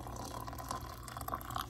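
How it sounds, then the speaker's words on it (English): Hot water from an electric tea kettle pours into a cup, a steady close splashing trickle over a low hum, with small bubbling bursts near the end. "I heat up my lovely water in my electric tea kettle and I just will add that"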